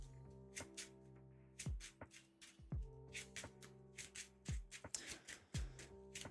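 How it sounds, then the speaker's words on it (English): Playing cards are shuffled by hand during a tabletop card game session, giving several sharp riffle bursts and soft slides at close range, with muted rustling between them and no speech. "Shuffle these."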